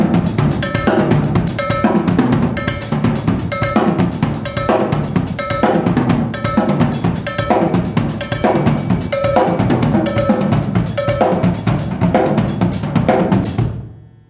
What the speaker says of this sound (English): I would do something with a cowbell like this